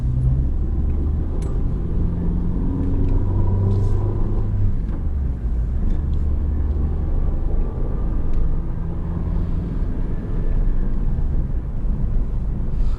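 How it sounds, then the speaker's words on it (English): Car driving along a countryside road in Kent with oncoming traffic: continuous engine and tyre rumble from inside the cabin, with occasional whooshes as vehicles pass the other way, and no talking. "Quite a bit of oncoming traffic."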